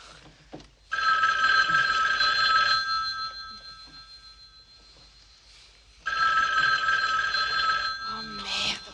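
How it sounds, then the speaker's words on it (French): A telephone rings in two long bursts with a quiet gap between them, a loud electronic bell sounding close by in a tense night scene. "le téléphone n'arrête pas"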